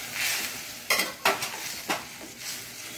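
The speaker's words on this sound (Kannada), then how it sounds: "ಇನ್ನು ಬಟಾಟೆಯನ್ನು ಸಹ ಇದರೊಳಗೆ ಹಾಕ್ಕೊಳ್ತಿದ್ದೇನೆ" Potatoes go into a pan of hot oil for a spicy Karavali-style dish and are stirred, bringing a steady sizzle broken by several sharp scraping clinks of a utensil against the pan, close up and without talk.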